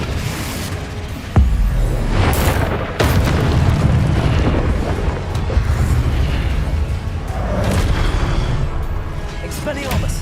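Confringo and Incendio spell explosions in Hogwarts Legacy, a string of loud booming blasts and bursts layered with combat effects, with a voice calling out spells between them.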